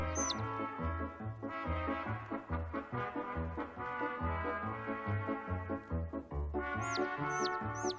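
A small chick clucking and peeping over steady rhythmic background music, with a few brief high chirps near the end; the bird sounds are partly buried in the mix.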